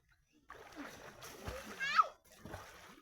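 Water splashes and sloshes close by as someone bathes, with a voice talking over the splashing.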